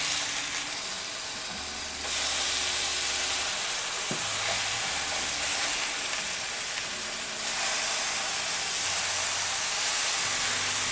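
Burger patties for huckleberry burgers sizzle steadily on a grill just after being flipped, a loud, continuous hiss with no talking.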